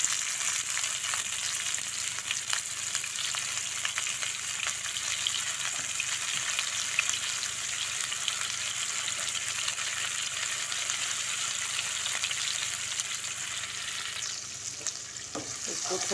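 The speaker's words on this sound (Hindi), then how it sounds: "अब मैं डालूंगी इसमें कटा हुआ प्याज" Chopped onion fries in a non-stick kadhai, a steady close sizzle with faint stirring ticks throughout, easing slightly near the end.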